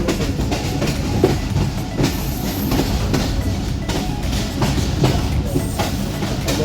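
A passenger train runs on rails, heard from inside with a loud, constant low rumble and a regular clickety-clack of wheels over rail joints.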